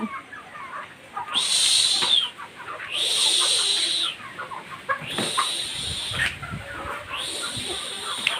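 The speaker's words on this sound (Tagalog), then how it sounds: "dito na yung mga manok natin, oh." Chickens cluck and squawk repeatedly in close, loud bursts, with a rooster-like call recurring roughly every two seconds.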